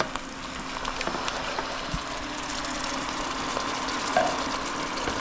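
Tomatoes fry and sizzle in a pan alongside pork chops, a continuous crackling hiss with occasional pops and light stirring, close and even in level with no talk.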